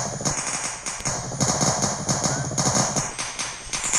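Rapid automatic gunfire from police characters shooting each other in a Spiderman action video game, dense rattling bursts filling the whole stretch over game noise, with a voice faintly under it.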